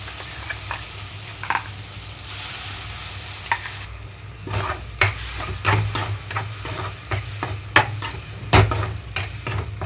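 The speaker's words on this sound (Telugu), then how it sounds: "మిక్సీలో ఉన్న ఈ చట్నీ మొత్తం కూడా నేను ఇందులో కలిపేస్తున్నాను" Ground amaranth chutney is stirred into a hot tempering in a pan, giving a low sizzle under repeated scraping and clattering spoon strokes that grow busier and more rhythmic in the second half, heard up close.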